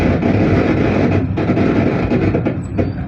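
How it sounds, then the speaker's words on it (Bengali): A train running along the rail line, heard as a loud, steady rumble with rattling wheels that continues throughout. "ট্রেন ছুটছে"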